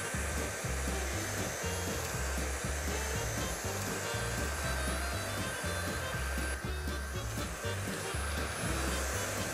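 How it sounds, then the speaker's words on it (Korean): A vacuum cleaner running indoors during house cleaning, a steady loud motor whine with a constant drone and faint rhythmic thumping underneath, no pauses. "청소기 한번 돌릴까?"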